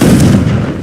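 A short, loud, booming blast from the Confringo spell in Hogwarts Legacy, one dense explosive burst that rings briefly and fades within a second.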